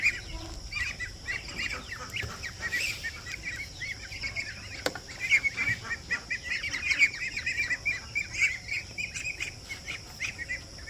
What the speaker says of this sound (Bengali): এবারে তো আবার অনেক হাঁস পালে, এই যে জায়গায় হাঁসের খোয়ার